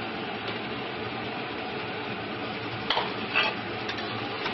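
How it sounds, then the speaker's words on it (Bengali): Fried potatoes stirred in a pan of hot oil, a steady crackling sizzle with a couple of sharp utensil scrapes and clinks against the pan, close up and without speech. "এবার আমি নাড়তে থাকবো।"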